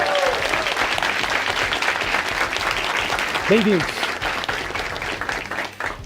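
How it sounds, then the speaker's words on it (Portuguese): Audience applause for visiting intern students at a Brazilian congressional debate event, a steady dense wash of clapping throughout with a voice speaking briefly over it. "Palmas para vocês mesmos."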